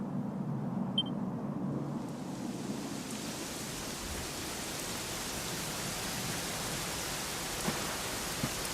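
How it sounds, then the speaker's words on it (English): Steady rain in the video game Dragon Quest XI hisses evenly throughout, a dense wash of noise with no voices, holding constant from start to finish. "it was raining like this the last time I ever saw her"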